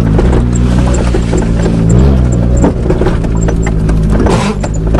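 Engine of a Talon side-by-side driven by a 16-year-old learning to drive on a muddy farm track, a steady loud low drone with some rattling and rises in revving throughout.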